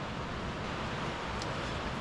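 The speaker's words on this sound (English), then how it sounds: "I don't know if you can hear the rain on this tin roof" Rain on a tin roof, a faint, dense, even hiss of countless drops with no clear individual hits, steady throughout and with no voices.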